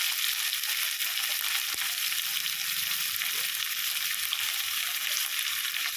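Vegetables sautéing in a pan for vada curry, with mint, coriander and curry leaves, give a continuous even sizzle close by, with a faint scrape or two and no voices.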